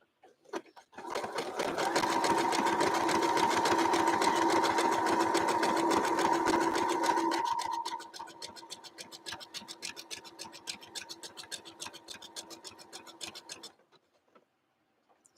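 Sewing machine running a straight stitch to attach lace onto a Sunbonnet Sue quilt block, a steady close mechanical whir for about seven seconds that then slows into a lighter, rapid ticking of individual stitches before stopping.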